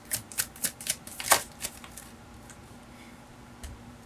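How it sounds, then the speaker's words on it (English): Tarot cards being shuffled and drawn: a quick run of crisp flicking riffles near the start, then a soft slap as a card is pulled, quiet and close with no talk. "Hold on, let me get another card on this."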